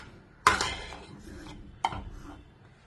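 Strawberry pudding is moved into a bowl with two distinct clinks of a utensil against a dish, followed by soft scraping and rubbing. The sounds are quiet and close.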